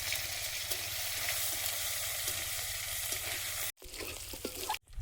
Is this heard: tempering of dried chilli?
yes